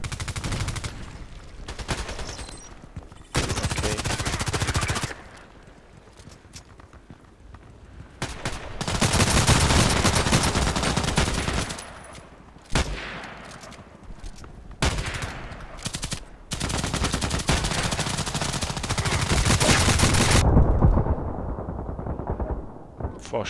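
Bursts of automatic gunfire from the shooter game Contract Wars on the Terminal 2 map, several loud volleys separated by quieter gaps, with a voice talking in places.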